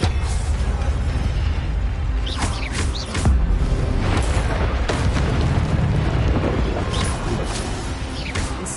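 Expelliarmus spell cast in Hogwarts Legacy, a run of loud booming, crackling magical blasts and whooshing bursts over a dense, continuous combat din.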